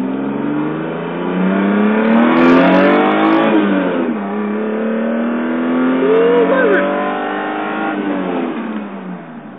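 A 1986 Toyota Supra engine revs loudly and steadily for about ten seconds, its pitch climbing and dipping through several throttle swells close to the microphone while a person talks over it.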